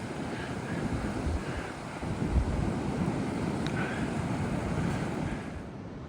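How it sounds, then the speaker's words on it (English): Wind and surf on a beach with firm sand along the Great South West Walk near Portland, a steady broadband roar of waves and wind buffeting the microphone, continuous and fairly loud with no talking. "And the wind's not horrific."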